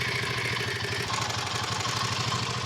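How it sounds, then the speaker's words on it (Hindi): A motorcycle engine idles with an uneven, rattling chug and a clattering tick running through it, steady and close by. "बाइक क्या अजीब आवाज कर रहा है, सुनो"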